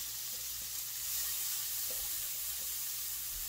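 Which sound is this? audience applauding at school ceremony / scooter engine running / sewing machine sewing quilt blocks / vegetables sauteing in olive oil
vegetables sauteing in olive oil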